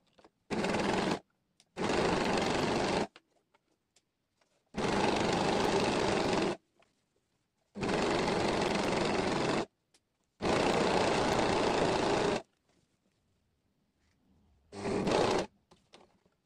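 A sewing machine stitches a dress seam in six separate runs of loud, steady mechanical whirring, each lasting one to two seconds, with near-silent pauses between them.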